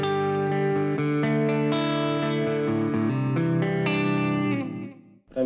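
Distorted electric guitar chords played through a Zoom MS-50G multi-effects pedal with reverb added, sustained and loud with ringing harmonics, cutting off at the end.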